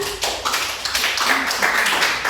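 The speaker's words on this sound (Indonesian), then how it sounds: "Tepuk tangan." Group applause after a presentation at a teachers' coaching session, a short burst of fairly close clapping that rises quickly and stays dense for a couple of seconds.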